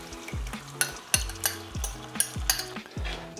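Tomatoes stirred through a pan of cooked-down wine for pasta amatriciana, rhythmic spoon scrapes and knocks against the pan about every half second over a soft, steady simmering sizzle, close by.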